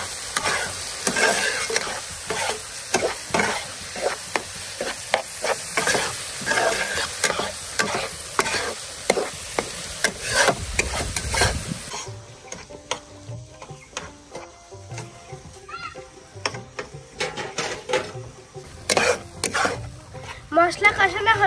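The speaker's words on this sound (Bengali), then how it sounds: "লবণ, সুন্দর মতো মশলাটা কষিয়ে দিচ্ছি।" Spice paste with chilli powder and salt is stirred and fried in a pan for a mushroom dish, giving a continuous sizzle with repeated scraping stir strokes, while a voice talks over it.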